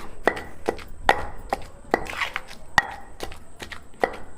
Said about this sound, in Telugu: గోంగూర తరిగి పెట్టుకుంటే మంచిగా తొందరగా మెదుగుద్ది.